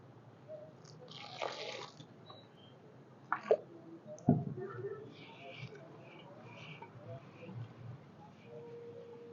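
Water trickles in small amounts into dough for a Tamil mixture snack, with a few soft splashes and drips. A voice talks over the pouring throughout.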